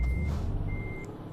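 Reversing alarm of a heavy truck in Euro Truck Simulator 2, two steady electronic beeps spaced apart over a low rumbling diesel engine idle, clear and close.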